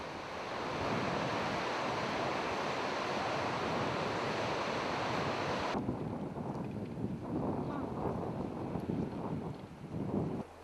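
A fierce river rushes through a deep gorge below a high suspension bridge, a dense, continuous roar of water with wind buffeting the microphone, loud and unbroken throughout.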